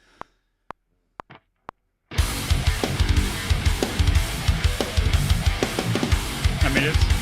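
Heavy track on an 8-string guitar, a dense, loud, distorted wall of sound kicking in after a few sparse clicks, continuing without talk.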